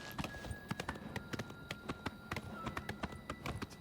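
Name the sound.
horse hooves clip-clopping in Elder Scrolls IV: Oblivion Remastered video game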